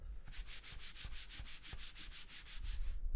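Mouse sliding over a rough SteelSeries QcK Performance Series mouse pad, a regular back-and-forth scratchy rasp repeating about fifteen times, close and fairly quiet, with no talk.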